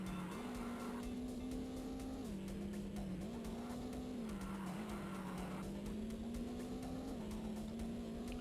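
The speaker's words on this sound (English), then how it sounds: "Nothing but the engine noise" Engine of a rally car in the Top Gear Rally racing game, a steady loud synthesized drone that rises and dips slightly in pitch with throttle, running continuously with no voices.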